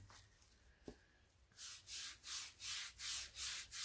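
A bare hand rubs oil over a wooden Karlakattai club in a close, quiet space, making about six rhythmic swishing strokes after a few faint handling knocks.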